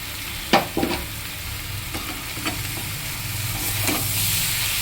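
Tomato goes into a pan of potato and snake gourd curry cooking on the stove: steady close sizzling with a few sharp clinks and scrapes of stirring near the start, no voices.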